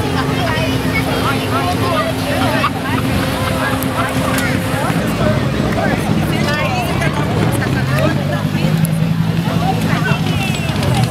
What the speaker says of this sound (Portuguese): Fiat Marea Turbo.